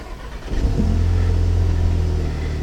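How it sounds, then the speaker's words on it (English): An Audi TT engine cranks and catches, then settles into a loud, steady idle with a deep, even rumble, recorded close with no talking. "if I start the car,"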